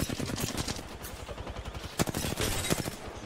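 Rapid gunfire from an Apex Legends match during competitive LAN scrims, with dense bursts of shots and sharp louder cracks near the end, loud and close throughout.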